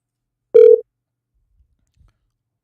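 A single telephone keypad tone sounds once, loud and close for about a quarter second, followed by near silence with a couple of faint low clicks.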